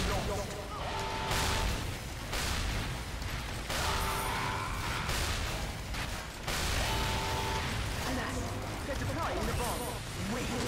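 Rockets fired in rapid succession in Team Fortress 2 burst into a dense run of booming explosions and pops that surge and dip, with a voice talking over the din.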